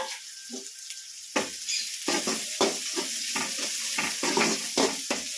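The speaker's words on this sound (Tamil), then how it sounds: "வெங்காயம் கருவேப்பிலை போட்டு தாளிக்கிறோம்." Oil sizzles steadily after onions and curry leaves drop into a hot pan, with sharp bursts of crackling and stirring scrapes, close and fairly loud.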